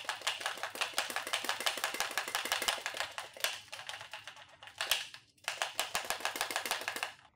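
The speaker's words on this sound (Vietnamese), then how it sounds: "đầu tiên thì chúng ta sẽ phải lắc bộ tiếp mực lên để cho mực bên trong" An HP Neverstop 1000 toner refill kit is shaken by hand, giving quick, even rattling taps in a steady rhythm, close and fairly quiet, with a short pause before the shaking resumes.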